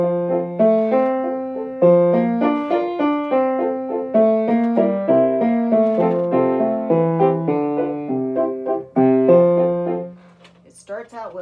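Piano plays the Happy Farmer tune as a lively run of clear, decaying single notes and chords at a steady pace, close and moderately loud, ending with a brief different sound.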